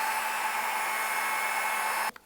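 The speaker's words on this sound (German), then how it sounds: "Die Spitze polieren wir noch einmal mit der Silikonscheibe." A part from a vintage Pfaff 30 sewing machine being polished with a silicone wheel on a rotary tool, giving a continuous high whine that cuts off abruptly near the end.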